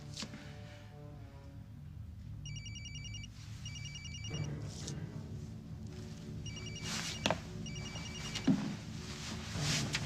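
A cell phone rings in two separate bursts of bright, repeated trills, set against a low hum of background music or room tone.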